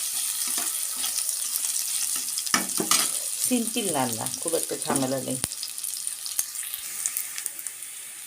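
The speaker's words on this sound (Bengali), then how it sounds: "একটা শুকনো লঙ্কা ফোড়ন দেব পেঁয়াজটা একটু ভাজা ভাজা হলে পরে" Onion with a dried red chilli frying in oil in a wok, a steady crackling sizzle running underneath while someone talks over it.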